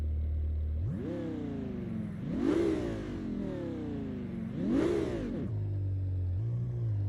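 Hypercar engine and exhaust in the racing game Assetto Corsa, revving in two sharp rising-and-falling pulls over a steady idle, loud and close with no talk.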